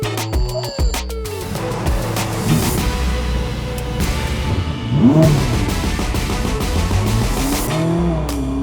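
Ferrari SF90 Stradale, a 1,000-horsepower supercar, revs its engine loudly and close by, with a sharp throttle blip early on followed by sustained rising and falling engine note, no talking.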